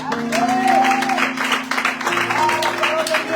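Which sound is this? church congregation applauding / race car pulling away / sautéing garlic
church congregation applauding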